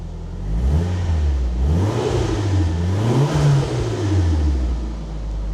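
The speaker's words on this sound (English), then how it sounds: "You can hear the turbo." A 1994 Nissan Silvia S14 with its SR20DET turbo engine, started from cold, revs up and falls back in repeated swells over a steady idle, loud and close, with no talking.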